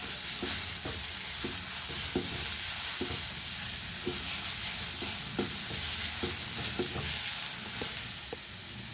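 Papaya roasting in a dry pan without oil, stirred with a utensil that taps and scrapes in a fairly regular rhythm over a continuous loud hiss, close up and alone.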